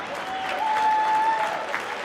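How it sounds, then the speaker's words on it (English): Applause from a crowd at a boys high school basketball game in a gym, a steady patter of clapping that holds for a couple of seconds at moderate distance, with a faint tonal whistle or squeak running through it. "Big round of applause, please."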